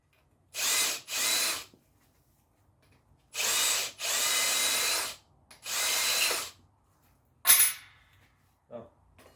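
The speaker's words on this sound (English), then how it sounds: "I like to just take and chamfer the edges" A power tool chamfers the edges of freshly reamed holes in metal clamp parts, whirring in several short, loud bursts separated by silence, followed by a sharp clack and a faint final tap.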